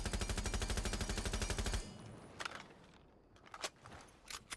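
Rapid automatic gunfire from Jaeger's weapon in a shooter game, a fast steady burst for nearly two seconds, then sparse clicks and small thumps.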